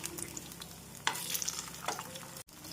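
Paneer tikka pieces shallow frying in oil on a tawa give a steady close sizzle with scraping stir and turning sounds, alone with no talk.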